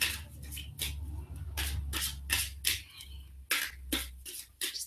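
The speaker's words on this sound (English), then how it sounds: "Just let me know when you want me to stop shuffling" A deck of tarot cards being shuffled by hand, with repeated riffling and sliding bursts at an irregular rhythm over a low steady background hum, close and moderately quiet.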